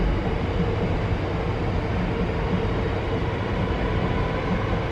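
A South Western Railway train departing Virginia Water station gives a steady, broad rumble and rolling noise that holds even and fairly close throughout, with no voices.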